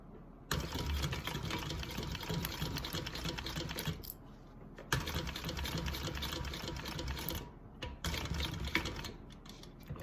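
A sewing machine stitches a fabric panel from one mark to another, running in three steady bursts with short pauses between them, close and loud with no talking.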